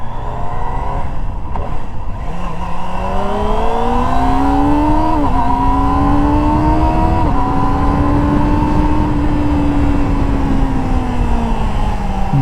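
A 2024 Kawasaki ZX-25R SE motorcycle engine screams continuously while being ridden, its loud high-revving note rising steadily with a few brief dips as it shifts gears.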